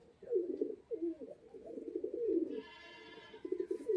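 A male Giribaz pigeon, held up for show, coos in rolling low phrases close by, with a brief higher rustle or squeal partway through.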